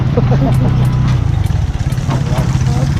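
Motorcycles wade through flood water on a road with no other route, their engines putting steadily and close by, with a low throbbing rhythm and voices talking over them.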